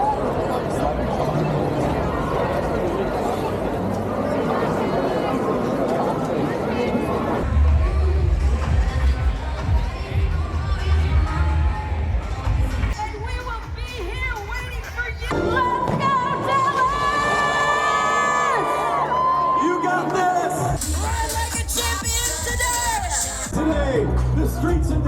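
Large crowd at the start of the 2024 BMW Dallas Marathon, with a dense, steady hubbub of chatter and scattered cheers and whoops. The noise stays loud throughout, with voices close by.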